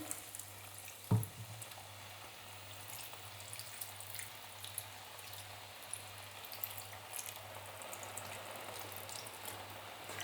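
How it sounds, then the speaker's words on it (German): Warm water poured into a hot pan with a teaspoon of salt gives a steady, quiet sizzle and hiss throughout, opening with a brief sharp knock near the start, no voices. "Jetzt kommt das Wasser darüber."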